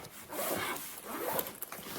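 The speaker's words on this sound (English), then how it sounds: "Zip it up." A zipper being pulled shut on a fabric packing cube holding a sweater and jeans, a steady close raspy zip running for about two seconds with a few small catches near the end.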